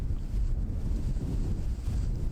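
Low, rumbling wind buffets the microphone steadily for a couple of seconds on a disc golf course, with no voices.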